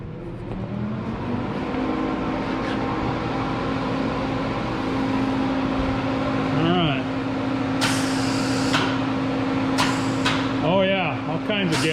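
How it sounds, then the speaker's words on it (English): A new MIG welder gun purging C25 shielding gas gives short bursts of hiss over a steady shop hum and low engine-like drone, clearest in the second half. "we'll fire up the welder and make sure we're getting gas flow through this new gun."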